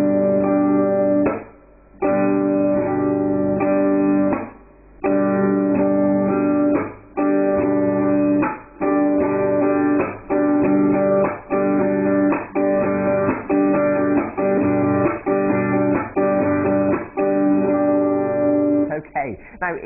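Strummed acoustic guitar in a steady down, up, chop, up pattern, with sharp palm-muted chops cutting through at regular intervals, played alone and close.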